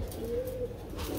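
Female doves, kept for sale at a pigeon and bird market, give a single soft, brief coo, faint and fairly close with no talk.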